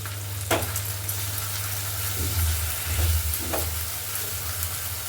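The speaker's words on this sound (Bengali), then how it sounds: "আর দেবো একটু Kashmiri red chilli powder, just কালারটা হবে, আর কিছু না। এটাকে ভালো মিশিয়ে নেবো।" Coriander powder and Kashmiri red chilli powder stir-fry in a pan with a constant loud sizzle, punctuated by a few scraping strokes and soft knocks of the spoon.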